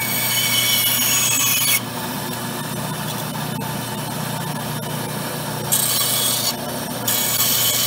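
An old Craftsman band saw cuts through wood with a steady, loud rasping drone over a low motor hum, brightening in bursts near the start and again toward the end as the blade bites harder.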